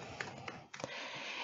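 A few quick keystrokes on a computer keyboard, sharp clicks in a short irregular burst over a steady hiss, close and brief.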